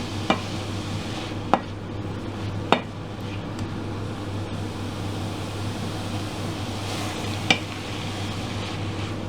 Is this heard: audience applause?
no